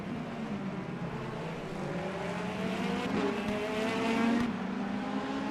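Race cars in traffic at Laguna Seca in the racing simulator Le Mans Ultimate: a steady engine drone with rising and shifting pitch, several cars layered together, and a slight surge in level midway.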